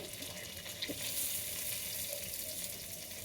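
Tomatoes sizzle in a frying pan as they go in with onions cooked until translucent, a faint, steady hiss with a few soft stirring clicks, heard up close with no talk.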